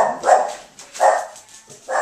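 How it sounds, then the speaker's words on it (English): Several dogs barking in short bursts, three loud woofs spaced across the moment, somewhat distant indoors with no talk over them. "My dogs are going crazy."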